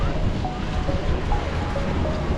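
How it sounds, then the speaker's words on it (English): Pacific Ocean surf rolls in near a pier in San Diego, a steady wash of waves blended with gusty wind buffeting the microphone. "that, my friends, is the Pacific"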